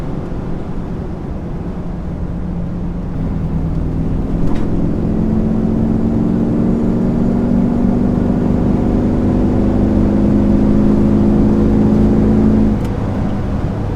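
A car engine with a throaty, aggressive rumble drones steadily and loudly up close, its deep tone climbing slightly in pitch through the middle before settling again.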